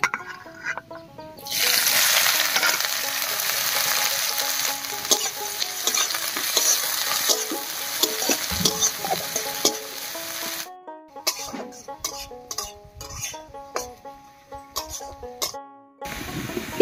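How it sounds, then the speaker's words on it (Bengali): Chopped onion drops into hot oil already holding cardamom and a piece of cinnamon, then fries with a loud, continuous sizzle and stirring scrapes. Near the end the sound breaks into choppy bursts separated by silences. "এবার এর মধ্যে দেব পেঁয়াজ কুচি।"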